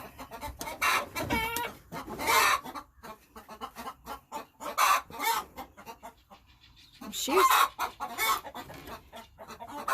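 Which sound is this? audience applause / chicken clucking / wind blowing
chicken clucking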